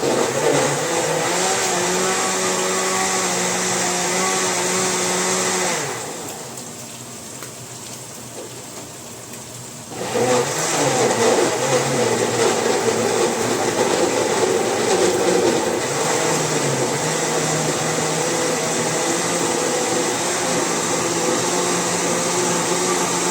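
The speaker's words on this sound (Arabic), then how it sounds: "ضربنا القوطة في الخلاط." A kitchen blender purees tomatoes with a loud, steady whirring motor that cuts out for a few seconds midway and then roars back up, with no voices.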